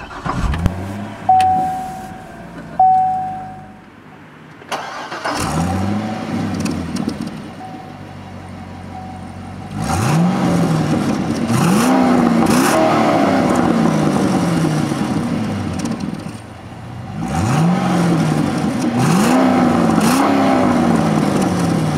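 A 2007 Chevrolet Corvette's GM 6.2-liter V8 cranks and fires up, settles into a loud idle, then is revved in several sharp rising bursts close by, with an electronic chime briefly sounding early on.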